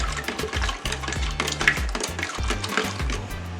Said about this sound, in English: I'm gonna stir.